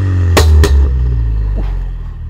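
Ford Mustang racing exhaust heard close up at a steady idle, with two sharp popping bangs on a quick rev over the low, constant engine rumble.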